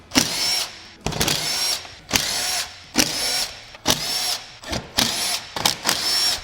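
A power drill or impact driver removes bumper bolts on a 2026 Tesla Model 3 Premium, with about eight short whirring bursts in a steady start-stop rhythm, loud and close with no talk.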